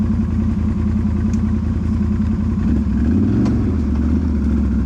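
A Can-Am Renegade 1000 ATV engine drones loud and steady in low four-wheel drive while churning through deep, rutted mud, with a rise in revs near the end.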